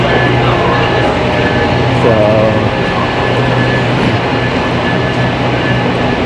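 A subway train stands at platform 13 of a Toronto station, out of service, filling the space with a loud, steady mechanical roar and rumble, with faint voices underneath.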